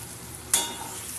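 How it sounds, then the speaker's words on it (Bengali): Onions and spices sautéing in a pan for a river fish mustard curry, a low steady sizzle broken by one sharp spatula scrape or clink midway that fades into continued frying. "এবার বেশ কিছুক্ষণ ধরে কষাতে হবে পেঁয়াজ আর মশলার সাথে"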